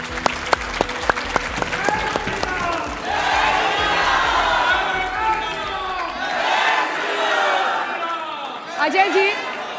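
Studio audience at a televised debate breaks into applause, starting with a few sharp individual claps that swell into loud sustained clapping and cheering, then fading into crowd chatter and voices.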